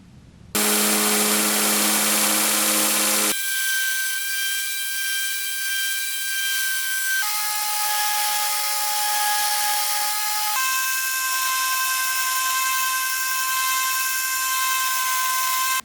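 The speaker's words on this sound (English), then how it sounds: "You just watched me grind out a little surface crack that I found on the bevel here while I was hand sanding." A grinder works out a small surface crack on the bevel of an O1 tool steel Bowie knife blade, a loud steady whine that shifts pitch in several distinct stages over about fifteen seconds.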